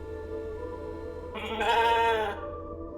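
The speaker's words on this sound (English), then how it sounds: "I made a sheep." A sheep in the video game The Alters gives a single wavering bleat lasting about a second, clear and close over a quiet game background.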